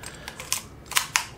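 A Minolta X700 film camera's cloth shutter fires at a half-second speed, giving a soft mechanical click, then a sharp opening snap and a closing snap close together, near and alone with no talk.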